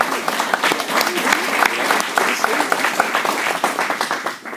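Crowd applause at a chamber of commerce general meeting in Fulshear, with many people clapping steadily and some sharp individual claps standing out, plus chatter mixed in.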